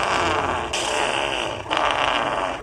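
A fake fart sound effect, a long buzzy raspy blast in three segments with abrupt shifts, loud and close.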